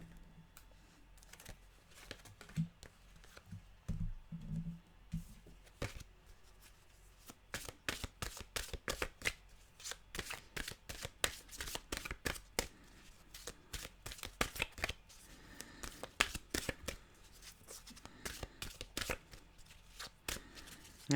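Mantra cards get shuffled by hand, a quick run of crisp riffling flaps and taps after a few soft handling sounds, close up and quiet with no talking.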